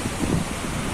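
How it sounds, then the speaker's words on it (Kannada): Strong wind blows at the seashore, a steady, loud blustery roar buffeting the microphone over the low wash of the sea. "ಇಲ್ಲಿ ಬಹಳಷ್ಟು ಜೋರು ಗಾಳಿ ಕೂಡ ಉಂಟು"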